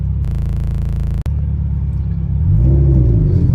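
A race car with an IAG 700 long block engine is driven around, its low rumbling engine drone steady and close inside the cabin, with a brief tone at the start and the rumble growing heavier toward the end.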